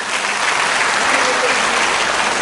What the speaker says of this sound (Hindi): अब विप्लव देव को पहचानती हैं तो तालियां बजाएं।